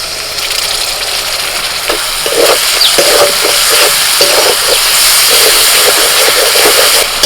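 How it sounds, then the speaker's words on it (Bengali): Mixed spice paste of chilli, turmeric, cumin, coriander and salt hits frying onion, ginger, garlic and tomato, giving a loud, steady sizzling hiss with faint scraping stirs underneath. "পেঁয়াজ আদা রসুন টমেটো ভাজা হয়ে গেছে গুলে রাখা মশলাটা দিয়ে দিচ্ছি"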